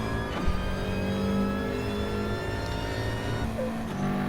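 Renault touring cars racing at Monza in a video game, with engines droning and whining steadily as the cars run close together, pitch shifting slightly as they accelerate, loud and continuous with no voices.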